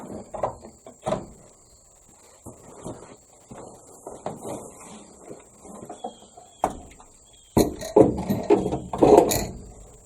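Bolting a battery into a 1979 Malibu, sparse metallic clicks and ratcheting taps, then a denser burst of clinking and rattling near the end, close by with a faint background hum.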